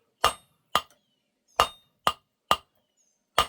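A metal candle holder is struck with a hammer on the horn of an anvil: six sharp, ringing clinks spaced about half a second apart, close and clear against silence.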